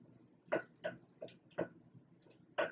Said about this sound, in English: Noise you hear is my ceiling fan.